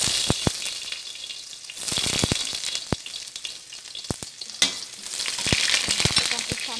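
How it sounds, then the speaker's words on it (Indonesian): Garlic sautés in hot oil in a wok, a steady close sizzle broken by sharp clicks and scrapes of a utensil stirring against the pan. "sekarang kita tumis rempahnya ya. Kita masukin dulu bawang putih buat masak cesin ya teman-teman."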